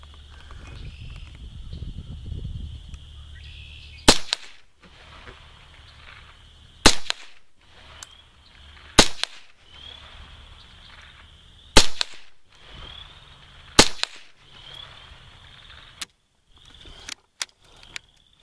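CCI Stinger .22 rounds fired one after another, sharp loud cracks spaced irregularly a few seconds apart, each followed by a brief ring, with faint handling noise between shots and a short low rumble at the start.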